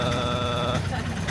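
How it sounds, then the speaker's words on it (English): Rough-running engine badly in need of a tune-up, heard as a loud, continuous low rumble with a steady tonal whine, close and dominant, with voices in the background. "This engine's really, it needs to tune up very bad."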